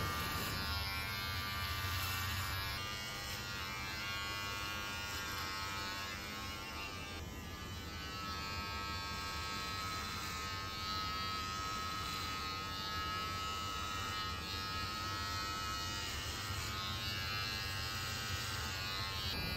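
A Wahl hair clipper with no guard buzzes steadily and close up while cutting hair for a mullet, a constant electric hum and whine running unbroken with no talking.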